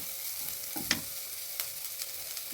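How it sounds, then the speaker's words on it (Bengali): Garlic paste frying in a little oil gives a faint, even sizzle with one or two light clicks of stirring, close but quiet. "রসুন বাটাটা দিয়ে দিচ্ছি। খুব কম তেলে এটা রান্না করা যায়।"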